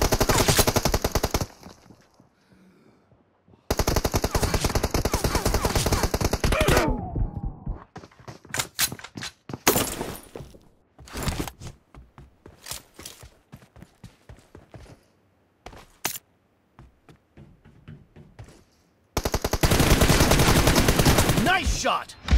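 Gunfire in the PUBG Mobile Lite video game, with long loud bursts of automatic fire alternating with rapid single shots and brief pauses, close and dominant.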